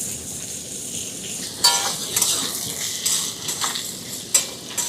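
Chopped carrot, capsicum and spring onion sizzle in a pan while a utensil stirs and scrapes against the metal in repeated, irregular strokes, close and clear with no talking.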